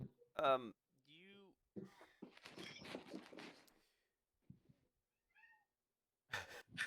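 A cat meows a few times, mixed in among people talking, with a short high call near the start and more brief calls later on.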